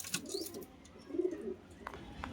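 Female Madrasi pigeon giving a couple of low, soft coos at close range, with a brief clatter and faint background noise around them.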